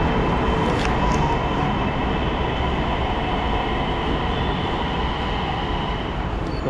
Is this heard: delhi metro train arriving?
yes